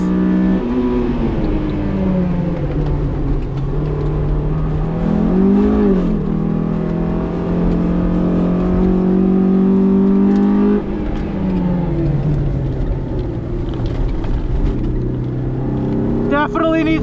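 A stock Honda S2000 engine revs hard on a race track, loud and close, climbing and falling through the gears with a brief shift around the middle, while a person talks over it.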